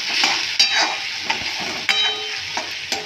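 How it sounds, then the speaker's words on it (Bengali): A spice masala of turmeric and chili powder fries and is stirred in a pan, close and fairly loud. Bright sizzling is broken by several sharp scrapes of the spoon at uneven intervals. "এবার দিয়ে পরে এটাকে ভালো করে আমি মশলাটাকে বেশ খানিকক্ষণ কষিয়ে নেব।"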